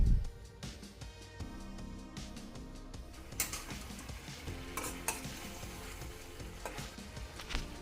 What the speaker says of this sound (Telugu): చికెన్ ముక్కలు వేసుకొని ఒకసారి బాగా కలుపుకొని ఒక 5 నిమిషాల వరకు ఉడికించుకోండి